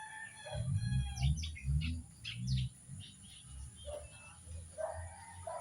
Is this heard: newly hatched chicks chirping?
yes